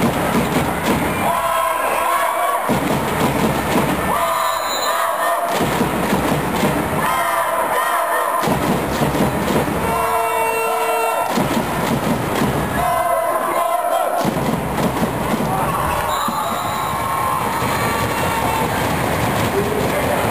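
Kamnik volleyball fans at a women's cup final roar continuously in a loud, dense crowd, with rhythmic surges and chanting pulses recurring every couple of seconds.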